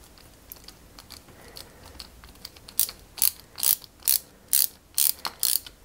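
Screw being driven with a small screwdriver while assembling a 1961 London Routemaster RM857 bus scale model, a quiet series of faint ticks followed by about seven sharp, evenly spaced ratcheting clicks, close and alone.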